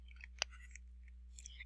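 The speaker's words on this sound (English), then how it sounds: "I'm crunching on peanuts." Faint, close crunching and chewing of peanuts, with a few sharp crackles over a low steady hum.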